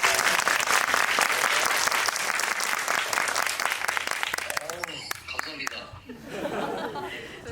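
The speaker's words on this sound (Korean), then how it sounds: "관객 여러분들 나홍진 감독님께 오랜만에 환영의 박수 한번 보내주시기 바랍니다." An audience at a film screening event applauds to welcome a film director, loud sustained clapping with some laughter and chatter that thins out toward the end.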